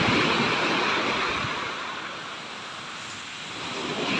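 Big ocean waves surge and crash continuously along a Philippine shore where a boat was capsized, a loud, broad roar of surf mixed with wind noise on the microphone, steady throughout without pause.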